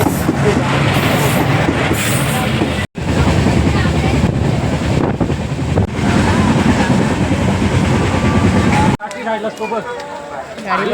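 Sawantwadi-Diva Express train running, a loud continuous rumble and rattle of wheels and carriages with wind buffeting the microphone, briefly cutting out, with voices in the crowded coach.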